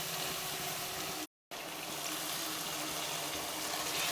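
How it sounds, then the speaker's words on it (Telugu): Water poured into a pan of prawn and Bengal currant curry, a steady broadband rushing pour that runs almost the whole time, broken by one brief gap, with no talk over it. "ఇది బాగా కలిపిన తర్వాత కొంచెం వాటర్ పోసుకుందాం."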